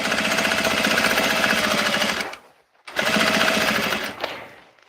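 Sewing machine stitching a 5/8-inch seam on a Vogue 1870 garment, a fast rhythmic mechanical chatter running steadily, stopping briefly, then resuming before winding down.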